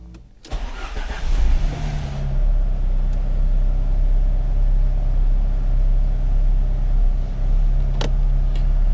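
A VW Corrado G60 engine restarts with a brief crank and catch, then settles into a steady, close, loud idle with a low even hum that holds without stumbling, a couple of faint clicks in the background.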